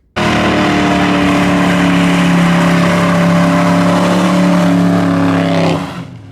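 A Ford Mustang GT of the SN95 generation with a V8 holds a loud, steady high rev for over five seconds before the revs drop off abruptly, heard up close with no speech.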